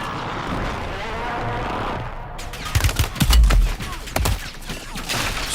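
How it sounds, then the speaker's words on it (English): Bursts of video game gunfire shot through walls, loud cracking volleys arriving after a stretch of ambient noise, several sharp shots clustered close together near the middle. "Shooting through the walls."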